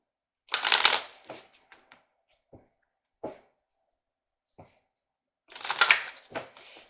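Love and light oracle cards are shuffled and pulled in crisp riffling bursts at the start and end, with scattered soft card snaps and taps between, close and quiet with no talk.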